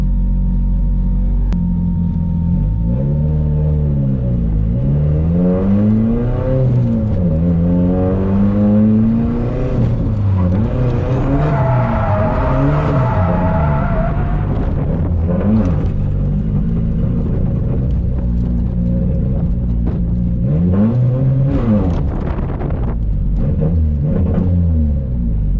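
Drift cars revving hard on the first lap of a private drift day at OSW track, loud continuous engine roar with rising and falling pitch sweeps as throttle is worked, close and unbroken throughout.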